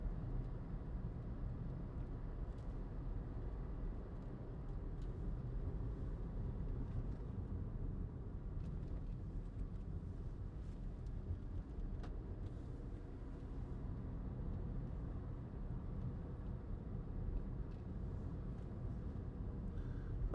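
Inside a 2012 Citroen C3 1.6 VTi on the move, a low, even road hum fills the cabin, quiet and unbroken, with barely any tyre or wind noise.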